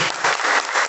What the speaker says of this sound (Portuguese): As palmas.